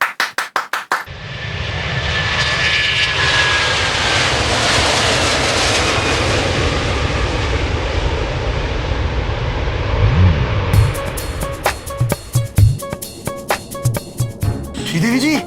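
An airplane flies by with a loud, sustained engine roar that swells and holds for most of the stretch, then breaks into clattering sounds near the end, with people talking over it.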